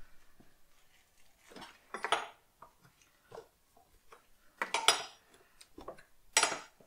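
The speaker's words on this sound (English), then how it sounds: "Now you should have room to use your wrench just to get it loose." A wrench clicks and clinks metallically in short, separated bursts while loosening the camshaft sensor on a BMW E46 engine, close and fairly quiet, with no talk.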